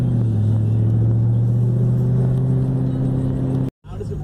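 A 1998 Ford Mustang GT with a manual gearbox and a stiff racing clutch revs under load, giving a deep, steady V8 rumble and drone inside the car. The noise cuts out abruptly near the end, then returns more faintly.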